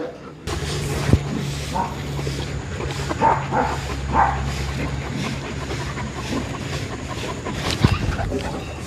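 A pack of large dogs, an Ovcharka and Rottweilers, bark and whimper in a few scattered bursts over a low steady hum, fairly close by.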